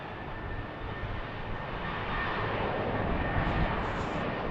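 An airplane departing from BWI airport, its engines a steady broadband roar that swells slightly partway through, heard from a distance with no one talking.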